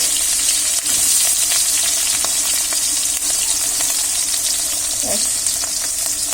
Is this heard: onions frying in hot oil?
yes